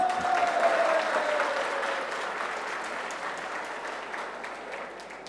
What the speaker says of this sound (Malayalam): അങ്ങനെ അങ്ങോട്ട് കൈയടിക്കാൻ വരട്ടെ